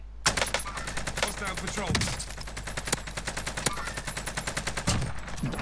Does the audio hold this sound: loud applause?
no